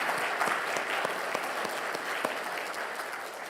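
Church congregation clapping in encouragement for volunteers during a Sunday worship service, a steady, moderately distant patter of many hands with no talking over it.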